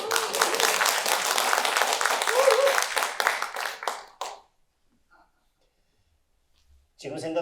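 Sustained, dense applause from a hall audience at a civic talk, with steady clapping for about four seconds that thins out and stops, followed by silence and then a voice.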